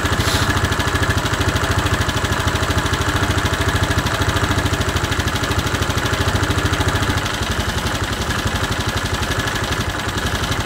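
A Bennche 500 UTV engine with a knocking, smoking motor idles steadily nearby, a loud, even low-pitched chugging drone that continues without a break and drops slightly in level partway through.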